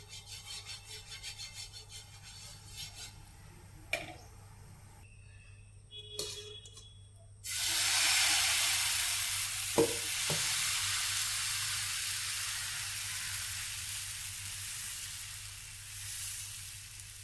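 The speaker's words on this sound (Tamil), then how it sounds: "தோசை ஊற்றி வச்சு பாருங்கள், நல்லா அழகாக வந்திருக்கு." Black chickpea dosa batter is poured onto a hot pan, setting off a steady broad sizzle that swells suddenly and continues evenly, with a few faint clinks of a utensil beforehand.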